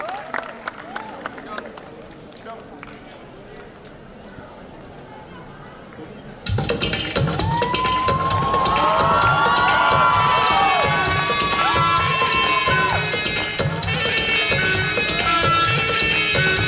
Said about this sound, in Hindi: तो जोरदार तालियों से स्वागत कीजिए girls from class 11 to present a delightful dance